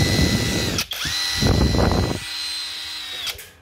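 A Makita brushless power tool with a steel head runs at close range in a loud, steady whine, briefly stopping and restarting twice before spinning down.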